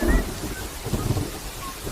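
Light drizzle falling in a film scene, a steady soft hiss of rain with faint low rumbling underneath and no voices.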